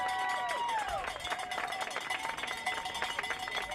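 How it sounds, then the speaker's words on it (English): A crowd at a Canada Summer Games track race cheers and claps for a runner finishing the men's 1,500 meters, a sustained noisy roar with scattered clapping, under a commentator's voice. "cheering him on as well"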